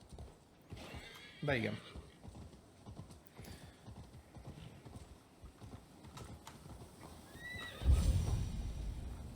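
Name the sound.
horse hooves and neighing in Assassin's Creed Valhalla video game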